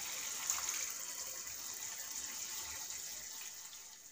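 Water pours steadily into a simmering paneer curry gravy, a continuous bright splashing hiss from start to finish with no voices.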